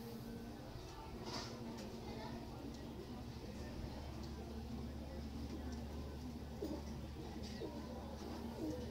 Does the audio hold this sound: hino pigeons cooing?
yes